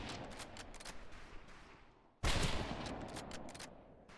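A sharp, loud volley of rifle fire on a firing range in Medal of Honor Pacific Assault, a sudden burst of simultaneous shots midway that decays into echoing rumble after a stretch of quieter crackle.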